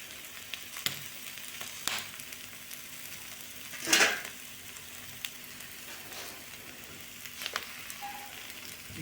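An egg omelette frying in a pan, a soft steady sizzle with a few sharper crackles and a brief louder burst midway, close and faint, with no talking.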